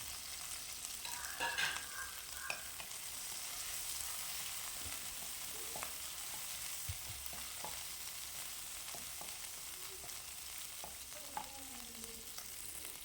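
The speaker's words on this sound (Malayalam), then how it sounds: "അപ്പോൾ ഇത് രണ്ടും കൂടി ഒന്ന് മൂപ്പിച്ചെടുക്കാം." Ginger, garlic, green or kanthari chillies and curry leaves sauté in oil for a kudampuli pickle, a quiet, even sizzle with occasional faint pops and utensil taps.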